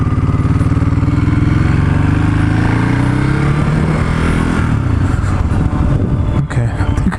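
Ducati Hypermotard motorcycle engine running steadily and loud while riding near Concord, California, with rising and falling engine tones through the ride and rougher rumble toward the end.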